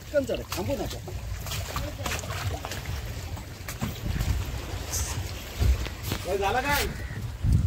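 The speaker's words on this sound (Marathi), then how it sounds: "ही आहे आमची समोर बोट." A boat on the water near Alibag fort, heard as steady wind and water noise with a low hum, partly masked by people talking nearby.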